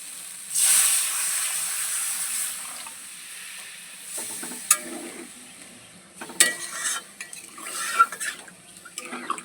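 Water poured into a hot pan of jackfruit seed curry gives a sudden loud hiss and sizzle that fades into softer bubbling, with a few sharp clinks of a utensil against the pan.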